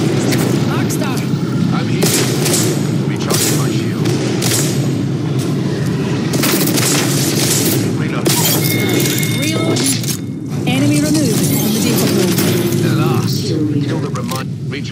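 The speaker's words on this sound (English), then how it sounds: "Grenade out. Arc star." In the video game Apex Legends, an Arc Star grenade goes off amid dense, continuous gunfire cracks and booms from a loud firefight, with voices talking over the action.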